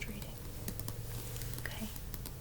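Tapping on books, a steady patter of soft, quick taps and light scratchy contacts close to the microphone, running continuously at a quiet, intimate level without any voice.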